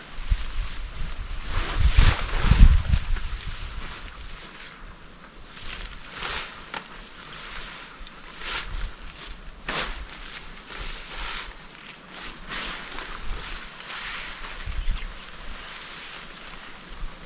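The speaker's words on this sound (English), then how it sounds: "sometimes the wind is an issue, other times the wind helps. The wind helped that time." Wind gusts across an open campsite on an abandoned lease, a steady rushing roar with buffeting surges that swell and fade throughout, no voices over it.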